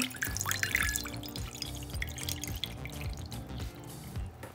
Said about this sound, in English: So I'm going to add some water into my bowl again.